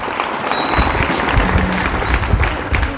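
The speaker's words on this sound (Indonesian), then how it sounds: "Tepuk tangan untuk santri seluruh Indonesia." Loud, dense applause from a large crowd at an evening National Santri Day gathering, cheering students of Islamic boarding schools across Indonesia, a continuous roar of clapping with a low rumble beneath.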